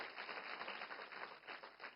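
Applause from an audience at a regional workshop on tele-law activities in Chennai, Tamil Nadu: a steady, dense wash of many hands clapping at moderate distance, continuous for two seconds with no talk over it.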